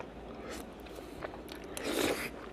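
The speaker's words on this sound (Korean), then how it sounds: "이번에 짜장면하고 한번 먹어보겠습니다" Someone eats jjajangmyeon made with fresh noodles in black bean sauce, producing close, soft chewing and slurping with a slightly louder mouthful near the end.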